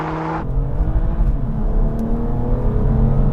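An Audi RS3 launches hard off the line in a drag race, its engine roaring loud and close from the first instant and holding a steady, strong pull as it accelerates with no talk over it.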